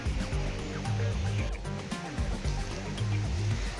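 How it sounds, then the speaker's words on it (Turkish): The Holfossen mountain stream and waterfall in Norway, water tumbling down steep terrain, make a continuous rushing roar close by, with someone talking over it. "Burada su çok eğimli arazide aktığı için zaten otomatikmen şelale oluşturuyor."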